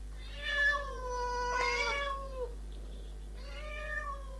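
Several cats meow in a boarding cattery's garden, long drawn-out wails rising and falling in three separate bursts over a low steady hum.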